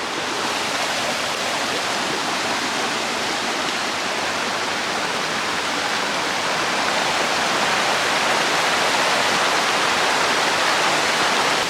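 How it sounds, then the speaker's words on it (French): A waterfall roars steadily and loudly nearby, its dense, unbroken rush of falling water filling the whole scene without a break. "maintenant je peux faire un vlog en selfie avec une cascade derrière"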